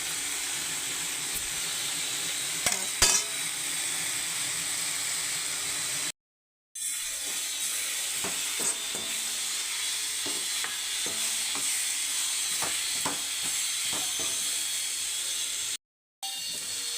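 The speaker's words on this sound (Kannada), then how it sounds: "ಬೆಳ್ಳುಳ್ಳಿ ಸ್ಮ್ಯಾಶ್ ಮಾಡಿ ಹಾಕಿ" Smashed garlic frying in a pan of oil while a fenugreek leaf kadabu dish is prepared, a steady hiss with scattered crackles and pops that runs throughout, broken by two short gaps of silence.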